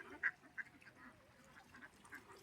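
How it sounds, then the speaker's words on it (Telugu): Hundreds of ducks gathered at a pond in summer heat quack in a faint, distant chorus, with a few sharper calls standing out against a soft background murmur. "కొన్ని వందల వేల బాతులు"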